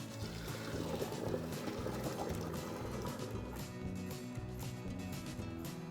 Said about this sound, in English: now we want to go ahead and drain these potatoes